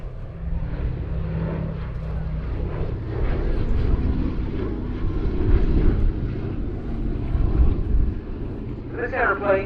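A Boeing B-17G bomber, Sally B, drones past at the Duxford Battle of Britain airshow, its piston engines giving a steady low rumble that swells in the middle, with a voice talking over it.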